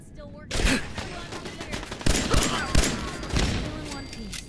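Automated turret fire in Fallout 4 bursts out in sharp, loud volleys after a quiet start, with repeated shots and echoing impacts, and a faint voice beneath the gunfire.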